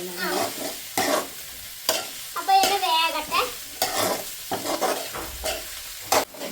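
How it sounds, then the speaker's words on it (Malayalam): Sliced onions fry in a pan for soybean roast while a spoon stirs them, producing repeated scraping strokes over a steady sizzle, loud and close, with no speech. "ഇനി നന്നായിട്ട് ഇളക്കി കൊടുക്കണം അല്ലേ ഇളക്കി കൊടുത്ത് സവോള ഇങ്ങനെ കൂടെ കിടന്ന് നല്ല മൂത്ത് മുരിഞ്ഞ് വരും"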